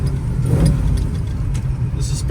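A 1965 Chevrolet Chevelle Malibu coupe with a 500-horsepower 454 LS7 big block rumbles low and steady while driving, the engine drone close and continuous throughout.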